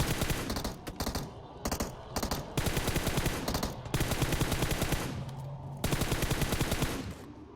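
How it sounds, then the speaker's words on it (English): Rapid automatic gunfire from PUBG Mobile in the Metro Royale mode, loud bursts of shots coming in clusters with short gaps between them, an intense close firefight. "Oh, you're shooting at me."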